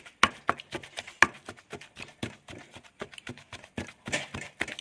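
Roasted olives pounded in a mortar for a Thai chili dip with fermented fish, chili, shallot and garlic, giving a steady series of sharp, close thuds at an uneven rhythm.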